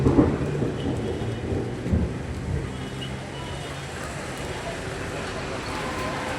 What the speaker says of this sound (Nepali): पानी परिरहेको छ, हावाहुरी आयो,